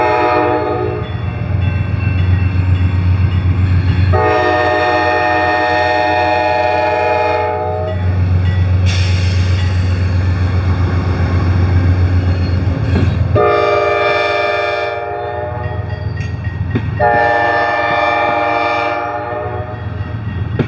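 Amtrak P32-8BWH Dash 8 locomotive hauls a train on CSX's Shelbyville line toward Beech Grove at night, its chime horn sounding in several long loud blasts over a steady rumbling engine and rolling wheels.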